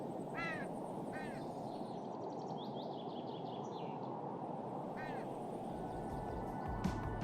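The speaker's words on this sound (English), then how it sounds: "Silent, except for the occasional sounds of a raven's call." Raven calls ring out a few times, harsh and moderately distant, over a steady broadband wash of outdoor background noise with no talking.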